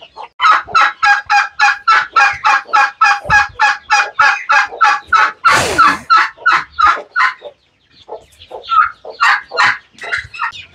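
Native country chickens (nati koli) cluck in a steady, rapid series of loud calls close by, with a brief sharp burst midway and a short pause before more scattered clucks resume.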